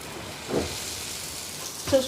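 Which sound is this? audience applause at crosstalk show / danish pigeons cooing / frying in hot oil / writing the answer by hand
frying in hot oil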